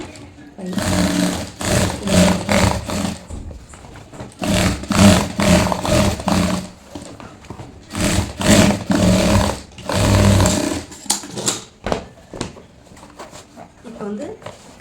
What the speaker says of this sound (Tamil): இன்னொரு தையல்